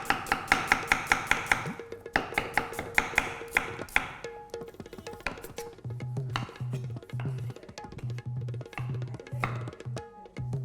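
Onions being chopped with a knife on a board in a home kitchen while cooking Kolhapuri chicken curry: a fast, steady run of crisp chops, then slower, uneven cuts with a low hum underneath.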